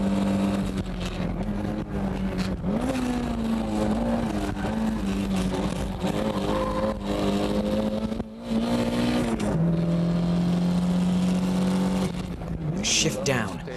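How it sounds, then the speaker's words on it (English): Toyota car engine pulled hard under full throttle, a loud, steady droning roar that climbs slightly in pitch in surges and drops after a shift near the end, with some talking over it. "Shift down and put the pedal to the metal."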